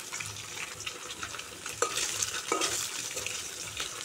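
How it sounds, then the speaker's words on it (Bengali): Fish pieces frying in oil over a clay stove, a close, steady sizzle with crackling bursts and a couple of sharper spatters, no voices. "তারপর মাছ ভাজা চাপিয়েছি।"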